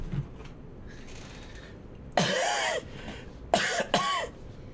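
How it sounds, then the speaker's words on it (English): A person coughs several times: a couple of sharp, harsh bursts close to the microphone separated by a short pause, over a quiet background. "I coughed."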